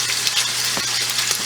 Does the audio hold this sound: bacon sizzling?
yes